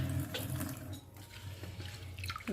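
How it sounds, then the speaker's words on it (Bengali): Warm mung dal being rinsed in water in a bowl, with close swishing and splashing that pauses briefly before resuming. "একবার ধুলেই হবে, মুগ ডালে অত বেশি নোংরা টোংরা থাকে না"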